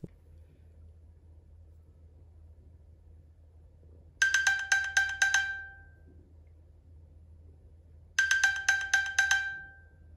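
Two bursts of a bright chiming iPhone find-phone alert tone triggered from an Apple Watch, each a quick series of pings about a second long, separated by a few seconds of quiet.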